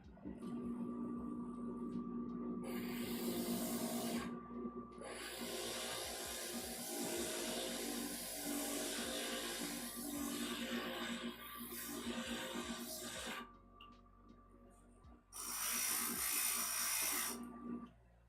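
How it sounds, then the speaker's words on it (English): A stained glass grinder grinding the edge of a cut glass piece, a steady whirring, buzzing motor with rough scraping in long continuous stretches separated by brief pauses, close and fairly quiet. "Let's grind this down."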